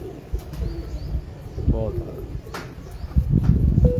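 Pigeons coo softly in short, low bursts, with occasional chirps, under someone speaking close by and some ambient rustling.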